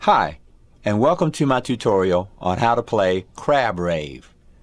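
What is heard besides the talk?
No distinct noise like a dog, phone or traffic.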